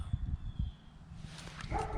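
Dogs barking in a neighborhood background, a few faint distant barks and yips scattered over low outdoor rumble, with no talking.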